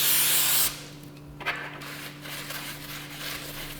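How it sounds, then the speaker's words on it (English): A short burst of cooking spray onto a baking pan hisses for under a second, followed by quiet room tone with a faint electrical hum and a small clink. "lightly spray the baking pan with cooking spray."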